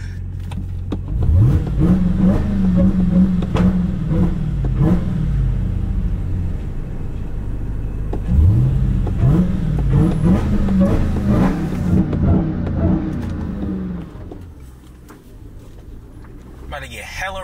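A Dodge Hellcat engine revs and accelerates hard twice in downtown Philadelphia traffic, each pull a loud, close, rising growl before easing off, with people talking over it.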